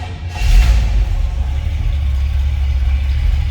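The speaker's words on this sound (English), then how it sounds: "Let's go ahead and fire it up so you can hear it run." A 1963 Chevrolet Bel Air two-door post with a 350 V8 idling after a cold start, a brief rev swell near the start settling into a steady, loud low rumble with no talk.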